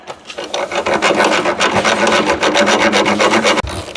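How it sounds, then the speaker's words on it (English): A thread file rasps back and forth over the flattened threads of a bolt on a 1971 Ski-Doo Olympic snowmobile, a close, steady run of quick scraping strokes that stops abruptly near the end. "I gotta hopefully thread file it back in so I can get a nut"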